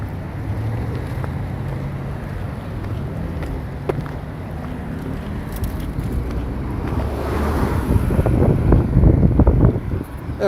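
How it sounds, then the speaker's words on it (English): A loud truck rumbles past in a steady, noisy roar with heavy wind buffeting the microphone, building louder toward the end; no talking. "That's a loud truck."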